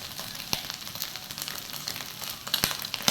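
Tengra fish frying in a pan, a steady oily sizzle with scattered sharp pops and spits, close and moderately loud with no voices.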